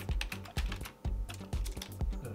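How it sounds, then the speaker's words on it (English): Keys clatter on a computer keyboard in quick bursts of typing, close and crisp, with short pauses between runs of keystrokes and no voices. "come down here and type"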